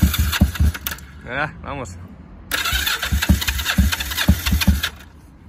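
A Yamaha XS 500 motorcycle engine cranks and fires into a loud, rough idle, with a brief pause and then a second start that settles into running; someone speaks briefly near the start.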